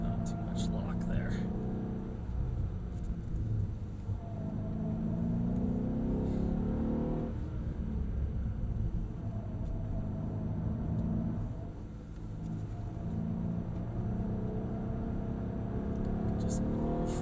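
A Mercedes-Benz E63 AMG works through the bends of a handling circuit at Mercedes-Benz World, Brooklands, with a deep, steady engine rumble heard from inside the cabin as people talk quietly over it.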